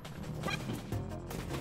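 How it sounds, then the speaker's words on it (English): Small dog-like sniffing and yipping from a Dry Bones skeleton dog in Super Mario Wonder, a quick run of soft snuffles and little yelps over steady game music. "And he has like the little sniffing doggy sounds."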